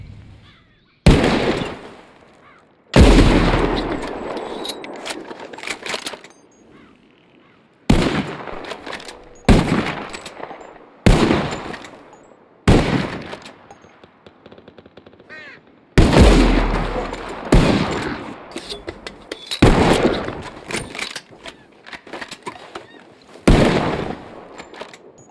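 Repeated gunshots fired at flying birds in Red Dead Redemption 2, loud close blasts in scattered clusters with sharp attacks and ringing decays, separated by quiet pauses over about twenty-five seconds.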